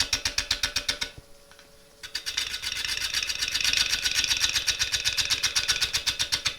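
A wood-turning gouge cuts an out-of-round bowl blank spinning on a lathe, producing a rapid rhythmic chatter as the tool bounces, a short pause, then a steady loud cutting rasp, with no talking.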